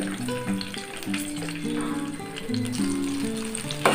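Red and green chillies fry in oil in a pan, giving a continuous close sizzle with light bubbling and a brief clatter near the end.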